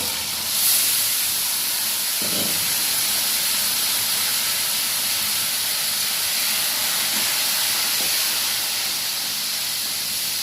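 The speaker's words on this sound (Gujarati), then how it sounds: "હવે આપણે મરચાં વઘારવાના છે" Green chillies sizzle as they are tempered in hot oil with a pinch of asafoetida, giving a steady, bright hiss that runs the whole time at an even level, with a few soft knocks beneath.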